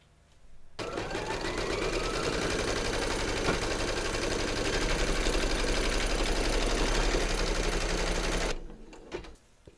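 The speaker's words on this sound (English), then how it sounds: "Pop your hoop into your machine and stitch round number 3 to secure them." Embroidery sewing machine stitching a round on a hooped design, a loud continuous rapid mechanical whirr with fast needle rhythm, starting abruptly and stopping near the end, close and alone.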